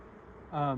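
Honey bees from a large swarm buzz in a steady drone, rising to a louder, close hum near the end of a brief moment.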